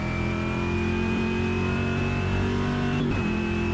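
A Chevy racing car engine in a sim racing video game drones steadily with a sustained whine, loud and close, briefly shifting pitch near the end like a gear change.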